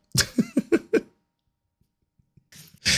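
A person with flu coughs in a quick run of five harsh, close bursts, then falls silent before a breathy rasp and another loud noise at the end.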